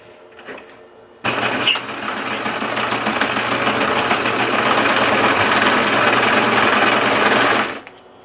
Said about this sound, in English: then sew the inside back up